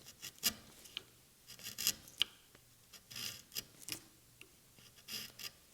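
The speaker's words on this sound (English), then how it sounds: "with my 1/4 inch chisel to ensure I remove all the debris that will keep my tail from fitting" A 1/4 inch chisel picks debris out of a back corner of a wooden dovetail, giving faint, scattered scrapes and small ticking taps at an irregular pace, quiet and close, with no talking.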